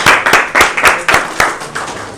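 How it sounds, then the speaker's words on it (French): A small audience at a French-language professional talk gives brief applause, a handful of distinct, close claps in an uneven rhythm that fade after about two seconds. "est-ce qu'on peut les applaudir?"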